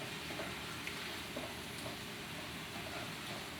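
Big shrimp sizzling steadily in a pan while cooking for shrimp fried rice, a continuous even hiss at moderate level with faint clinks, no talk.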